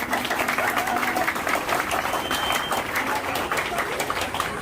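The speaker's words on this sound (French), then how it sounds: "Applaudissez-vous s'il vous plaît." Sustained applause from an audience of young Haitians, a dense steady clatter of many hands at a gathering on pan-Africanism, holding at an even level throughout without pause.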